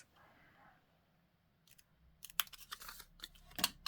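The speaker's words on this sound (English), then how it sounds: "I'm wondering about actually trimming the edges like this." Scissors trimming the edges of a paper card, a series of close crisp snips that start after a quiet stretch and grow denser toward the end.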